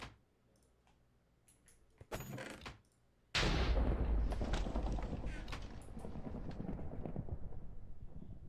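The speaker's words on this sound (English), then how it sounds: "Why was that explosion so profound?" A Minecraft Bedrock explosion bursts suddenly and loudly after quiet game sounds, with a deep boom that decays into a long rumbling tail.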